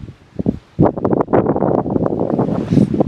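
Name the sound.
wind blowing at Brevert Lake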